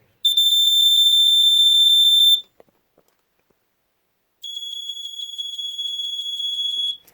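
Shrill, rapidly pulsing beeps from a Sears Early One 246.57313 smoke detector for about two seconds, a short silence, then a second, slightly quieter burst of pulsing beeps.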